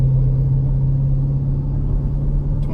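A 2010 Camaro SS fitted with TSP headers and cam drones steadily under light acceleration in gear, a deep continuous rumble close up with a faint rise near the end.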